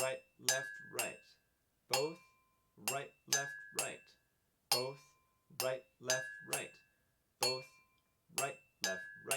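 Sharp ceramic clinks of drumsticks tapping on mugs in a steady repeating 3-against-2 polyrhythm pattern, one voice counting the beat aloud over each hit.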